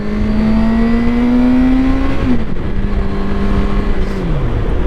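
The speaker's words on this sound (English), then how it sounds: "That exhaust sounds fantastic." A loud 2020 Suzuki GSX-R750 engine with a Dan Moto aftermarket exhaust revs steadily at high pitch, then drops and winds down in stepped tones, close up with a raspy exhaust note.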